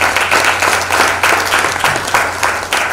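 An audience claps in a steady, sustained round of applause for event partners and sponsors, a dense wash of many hands filling the room at a fairly loud level with no speech over it.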